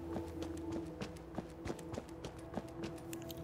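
A brahmin, the two-headed cow of Fallout 4, moves along with rhythmic hoof clops, faint and even in pace, with no one talking.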